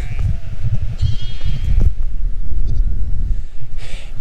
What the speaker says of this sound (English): Some unusual sheep in the field next to me at the moment. Curly horns and little cute black lambs.